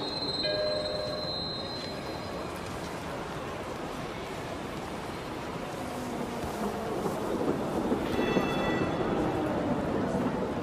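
A train passing on a railway, rumbling steadily with metallic wheel squeals and screeches that fade early then return louder near the end, with faint talk in the background.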